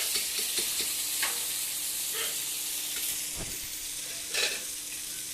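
Ground cumin paste with green chillies fries in a pan while being stirred, making a soft continuous sizzle broken by scraping strokes and a few louder clacks, with no talking.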